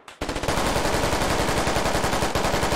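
Automatic gunfire in the video game Squad rattles off in a fast, loud, close burst of evenly spaced shots that continues almost without pause, with no talking.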